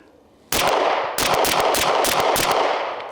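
Loud, rapid pistol fire from an HK VP9A1K, shot in quick doubles, with several close, sharp reports running together in a dense burst lasting a few seconds.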